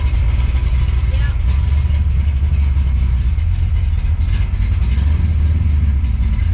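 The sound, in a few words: 1967 Ford Mustang engine running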